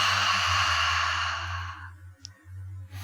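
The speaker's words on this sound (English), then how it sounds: "as you exhale, do so like you're trying to fog up a mirror. So you're exhaling with an open mouth" A long open-mouth exhale during yoga breathing, like fogging a mirror, comes as a close, breathy whoosh lasting nearly two seconds before fading, over a low steady hum.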